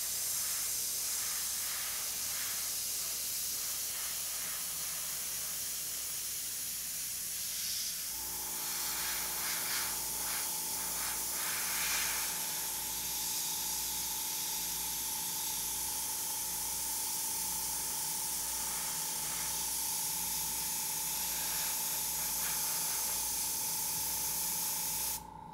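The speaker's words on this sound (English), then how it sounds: "I'm gonna put kind of like a small mist, a bit of paint on top, so it will push everything back" Airbrush spraying a fine mist of paint over a stencilled zombie-themed background, a steady soft hiss running throughout, with a faint continuous hum joining partway in.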